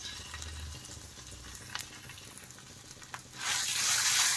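Ground ridge gourd peels fry in oil with lightly fried onions, a soft sizzle with scraping stirs, swelling to a louder hiss near the end.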